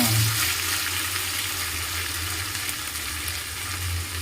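A paste of onion, tomato, coriander and mint fries in a pan, giving a continuous, fairly loud hiss and sizzle with no talk.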